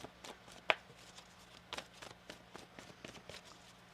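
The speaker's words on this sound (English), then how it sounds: "One more shuffle." Tarot cards being shuffled by hand on a table, soft papery riffles and taps with one sharper snap, quiet and close, repeating in loose bursts with no talk.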